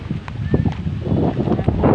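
Gusty wind roars and buffets the microphone in uneven rushes, with faint rustling and indistinct movement underneath.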